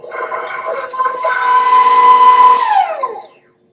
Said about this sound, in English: let your mixer mix on sort of a medium-low speed for 5 minutes